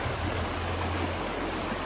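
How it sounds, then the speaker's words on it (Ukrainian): A fast-flowing mountain river in the Ukrainian Carpathians makes a dense, continuous rushing roar, steady and close with no pauses. "Дивіться, тут дуже така бистра вода йде."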